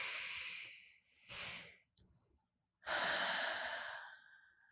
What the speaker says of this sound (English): You pause and breathe it in deeply